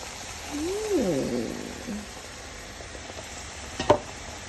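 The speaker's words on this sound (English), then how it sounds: "Gonna deglaze it with a little of the white wine." White wine hits a hot pan while deglazing for a seafood boil pasta, giving a soft, steady sizzle under faint kitchen noise, with a brief clatter near the end.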